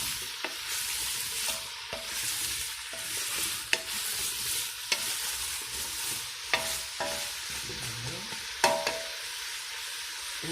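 A spoon stirs pumpkin soup in a pot on the stove, with steady scraping and sloshing over a constant sizzling hiss and a few sharper clinks against the pot.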